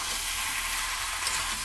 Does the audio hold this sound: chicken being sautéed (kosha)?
yes